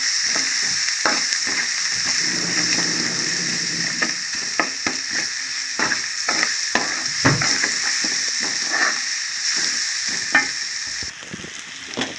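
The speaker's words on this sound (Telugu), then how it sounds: "ఇవన్నీ గరం మసాలా ముద్ద కూడా వేసేసుకుంటాం దీన్ని కూడా బాగా ఇందులో ఫ్రై అయితే తీసుకుంటాం" Onions frying with garam masala paste for a simple chicken curry, a loud continuous sizzle close up with frequent clicking, scraping stirs of a spoon in the pan throughout, no voices.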